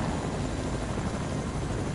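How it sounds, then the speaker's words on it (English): A helicopter in a video game roars steadily and loudly, a dense continuous rotor and engine wash filling the whole moment with no talk. "get in the helicopter"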